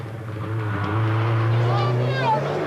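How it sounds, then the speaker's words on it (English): A small Peugeot rally car racing on a closed stage at the 1985 Monte Carlo Rally, its engine note a steady, loud drone that climbs in pitch as it pulls away. "The diminutive Peugeot is now in hot pursuit."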